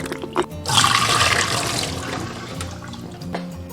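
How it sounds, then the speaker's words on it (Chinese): Dried scallops and dried shiitake mushrooms are swished and rinsed in a bowl of clean water, giving a steady close sloshing and splashing that rises after a brief start and continues for several seconds with no talk. "加入清水淘洗1遍。"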